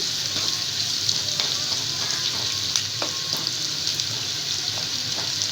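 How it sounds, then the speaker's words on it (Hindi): Onions sautéing in a pan for fish curry, giving off a steady, dense sizzle with occasional stirring scrapes and soft pops throughout. "प्याज़ों को सिर्फ हमें थोड़ा सा सौते करना है।"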